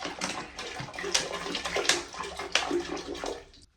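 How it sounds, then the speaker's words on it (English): Bottled water poured from a couple of bottles into a toilet bowl during a toilet replacement, a steady close splashing and gurgling pour with a few louder surges, ending abruptly. "I'm just gonna grab a couple bottles of water and dump them in the toilet"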